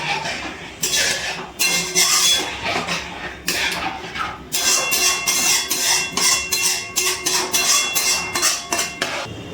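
Spice paste being stirred with water in a cooking pan for a Bengali bata fish curry, with a spoon scraping and clinking against the pan in a rapid, uneven rhythm that is loud and close.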